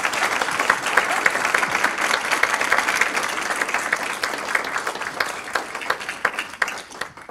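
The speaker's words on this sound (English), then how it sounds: "So I think we might just give them a round of applause before we start." Seminar audience applauding steadily and fairly close, dense clapping that holds for about seven seconds before beginning to thin out at the end.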